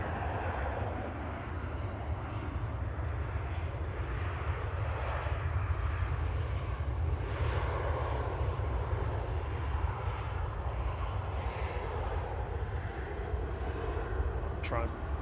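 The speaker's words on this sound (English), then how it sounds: "EasyJet 702 from Belfast here" An EasyJet jet from Belfast at Manchester Airport gives off a steady, moderately distant engine rumble that holds level throughout, with a person talking over it.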